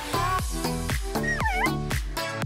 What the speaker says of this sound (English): Oh no, now these cats will start fighting